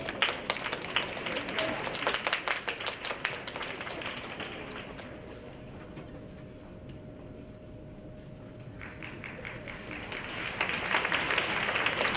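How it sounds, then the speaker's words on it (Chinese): Scattered clapping from a small audience welcoming a student performer to a music recital, patchy at first, fading to near quiet midway, then building again toward the end. "现在，让我们掌声欢迎黄奇威同学带来的演出"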